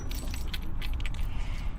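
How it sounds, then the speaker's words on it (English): A bunch of keys jangles as it is dropped into a bag, giving close metallic clinks and rattles over a low rumble with no talk. "put my keys in my bag"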